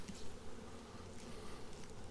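Honey bees hum steadily and close throughout while being hived with pollen patties, a dense continuous buzz with no voices.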